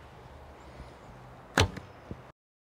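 A wooden arrow from a laminated Mongolian-style bow strikes the target at about 20 meters with one solid, sharp thwack and a brief rattle afterward, over a low, steady outdoor hiss.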